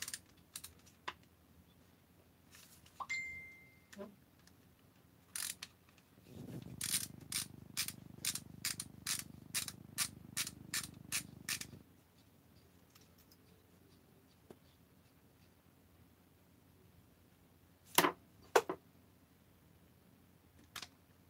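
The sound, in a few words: taking apart a blower's carburetor with tools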